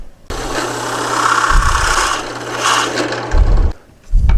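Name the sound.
drill press with brad point bit drilling wood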